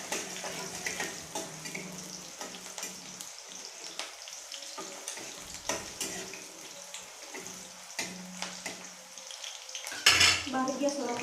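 Red chillies frying in oil in a home kitchen, a soft steady sizzle with light scraping and clinking of a pan and utensils, plus a brief louder clatter near the end; no one speaks.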